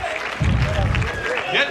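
A crowd at a 1986 wrestling event breaks into applause, heard as a dense patter of clapping with a commentator talking over it throughout.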